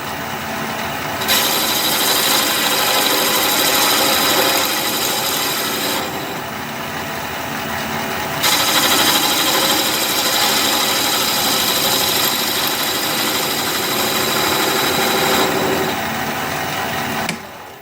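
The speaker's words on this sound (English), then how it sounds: "now I decided to bevel this edge a little bit" A wood lathe spins a juniper vase while a tool bevels its edge, giving a steady, close whirring hum with a continuous scraping rasp that cuts in and out in long passes.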